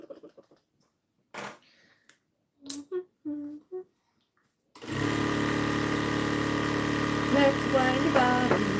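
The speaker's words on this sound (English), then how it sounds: "Let's wind a bobbin." A sewing machine winds a bobbin in a steady, loud continuous whir that starts abruptly after a few quiet seconds of small clicks and handling noises, then runs on without pause.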